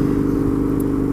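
Husqvarna Nuda 900R motorcycle engine at partial throttle while riding, a steady low droning hum with wind rush, continuous and fairly loud.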